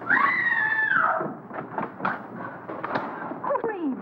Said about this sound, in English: What's all the racket? Pounding on walls,